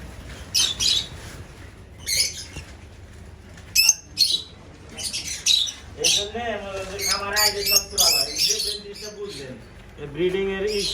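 Fischer's lovebirds squawk in shrill, repeated bursts, some close and loud, with a voice talking among the calls.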